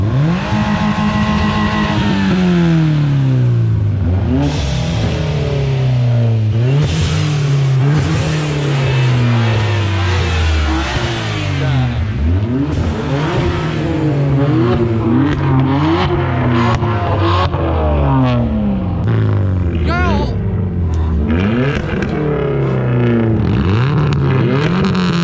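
Several cars lined up for a drag race in the snow, a BMW, Hyundai, Subaru and Corolla among them, rev their engines loudly and continuously, with overlapping rising and falling engine pitches close by.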